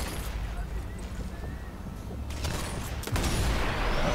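Several sharp gunshots crack out of the video game Sniper Elite 4 on an Xbox Series S against a steady ambient background, with a loud burst near the end.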